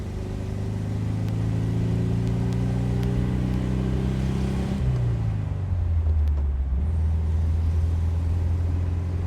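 A 1964 VW Karmann Ghia convertible cruises along a farm road, its air-cooled engine droning steadily with a drop in pitch partway through as it shifts or slows, loud and close with no talking.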